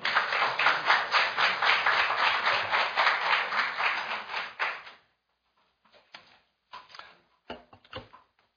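An audience in a lecture hall gives warm applause welcoming former Japanese Prime Minister Naoto Kan, at a talk marking four years since the Fukushima nuclear accident. Dense, steady clapping runs for about five seconds, then stops and leaves a few scattered claps and small knocks.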